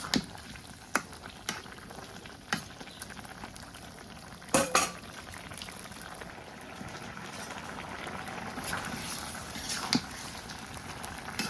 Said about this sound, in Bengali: এই তরকারির মধ্যে এখন মাছ দিয়ে দিই মাছ দিয়ে দিলাম মিশিয়ে নিই